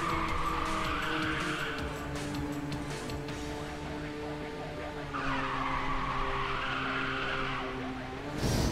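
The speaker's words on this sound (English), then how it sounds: "I just held the brake button to drift and then let it go after a certain period of time" A car drifts in Ridge Racer 6, its tires squealing steadily for several seconds over a droning race-car engine, with the skid easing mid-run and then swelling loudly again toward the end.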